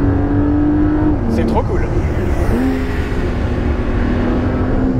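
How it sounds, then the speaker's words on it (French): A Porsche 911 Dakar's flat-six engine drones steadily and loudly, its pitch dipping then climbing again as it revs, with a person talking briefly over it near the middle. "le flat six, dans la 911 Dakar, il se fait très présent"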